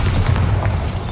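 A deep, rumbling blast from the Bombarda spell in the Hogwarts Legacy video game, with a loud, heavy low-end boom that fills the moment.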